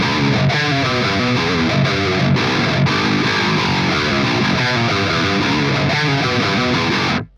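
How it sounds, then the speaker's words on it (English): A heavily distorted electric guitar through an Engl Savage 120 Mark II high-gain amp plays a chugging riff with sustained chords, loud and dense, ending abruptly; no voices. "The amp that I'm playing through is the Engel Savage 120 Mark II and it sounds like this"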